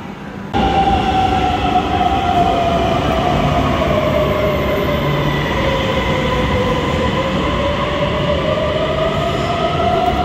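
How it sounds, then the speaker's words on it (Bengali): A train pulls into the underground station beneath Copenhagen Airport, a loud, steady rumble with a long, high wheel squeal sweeping down and up, close and continuous. "আমি এখন ট্রেন স্টেশনে আসছি কোপেনহেগেন এয়ারপোর্টের নিচে। তো আমার ট্রেন মনে হয় এদিক দিয়ে আসবে।"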